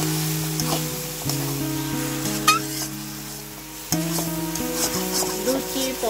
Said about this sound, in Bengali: দিয়ে আবার একটু নেড়ে চেড়ে নিব, নেড়ে চেড়ে মিশিয়ে নিব।